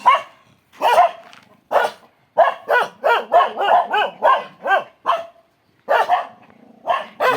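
Loud, rapid barking from nearby dogs at a house, a dozen or so barks in quick bursts with short pauses between.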